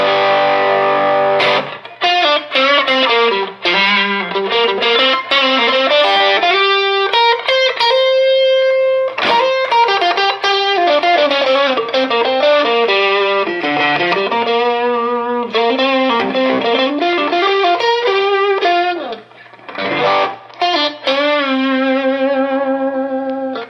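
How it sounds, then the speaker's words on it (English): Electric guitar played through a JHS 3 Series Screamer overdrive pedal, volume high, tone at noon and gain around one to two o'clock, giving a loud, continuous, mildly distorted riff of chords and single notes with no talking. "Sounds good. Now let's bump up the drive even more."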